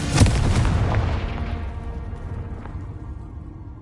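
A single Confringo fire spell explosion in the video game Hogwarts Legacy, a loud close boom at the start that rolls off into a long, fading rumble over several seconds.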